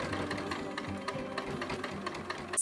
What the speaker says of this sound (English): Now we'll sew around with a 3/8 of an inch seam allowance.